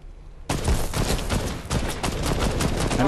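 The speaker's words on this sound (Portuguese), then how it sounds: "Você escutou alguém dando tiro?" Gunfire in a Fortnite match erupts suddenly after a moment of quiet, a loud rapid burst of overlapping shots continuing as a dense fusillade to the end.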